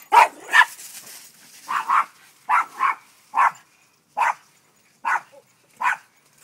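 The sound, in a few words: dogs barking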